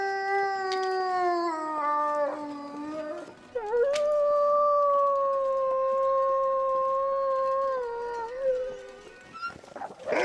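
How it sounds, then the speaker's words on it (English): A wolf in the survival video game The Long Dark lets out long, mournful howls that rise and glide between pitches, loud and clear in a quiet wilderness setting, ending in a brief rough noise. "there's a wolf."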